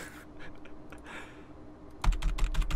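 Keys clatter on a Titan computer keyboard after a quiet stretch: a quick run of loud, close, sharp clicks and taps in an uneven rhythm, with no voices.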